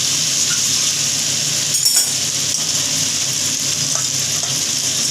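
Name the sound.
stirring fish into frying mixture in pan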